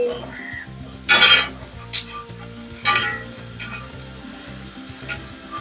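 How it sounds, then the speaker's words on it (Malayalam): Prawns frying in hot coconut oil for a Kerala-style prawn biryani, a steady close sizzle broken by a few sharp metallic clinks and scrapes of a utensil against the pan, no talking. "അപ്പൊ ഇതുപോലെ നമ്മള് ബാക്കിയുള്ള ചെമ്മീനും കൂടി വറുത്തെടുക്കണം."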